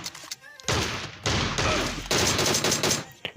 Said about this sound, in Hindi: मुझे पीछे से बुलेट्स फायर होने लग गई